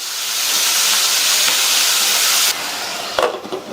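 Loud steady sizzling hiss of vegetables sautéing in a hot pan, dropping off briefly before a few clinks and stirring noises.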